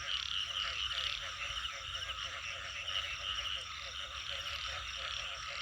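Frogs croak in a dense, continuous chorus on a rainy night, many calls overlapping in a steady pulsing stream with nearer croaks standing out.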